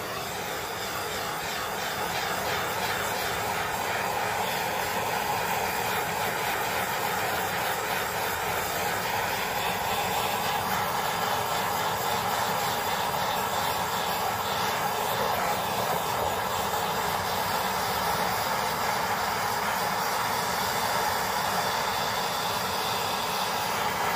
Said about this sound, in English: Torch is live.